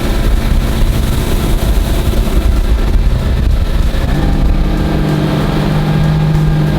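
A Vexus ADX200 V-hull boat carves a turn on the water, its outboard engine roaring loud and close under heavy wind rush, the motor note shifting partway through the turn.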